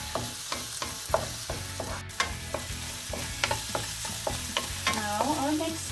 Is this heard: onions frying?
yes